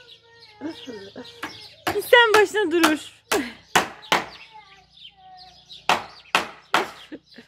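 Chickens and a rooster cluck in a rural yard beside a garden arbour, giving loud, close, sharp bursts in an irregular run, with someone speaking between and over the calls.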